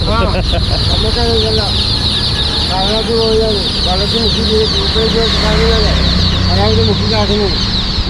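Dyed, colour-painted chickens from Coimbatore cluck repeatedly in short bursts at a sale in Thaliparamba, Kerala, over a steady loud background hum, with some voices mixed in.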